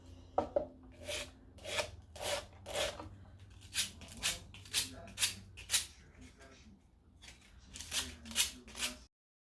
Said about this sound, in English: I'm going to go ahead and use my sandpaper.